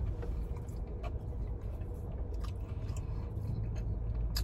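Close, crunchy chewing and biting of a Burger King Ch'King crispy chicken sandwich, steady and continuous, with a low rumble of traffic in the background and no talking.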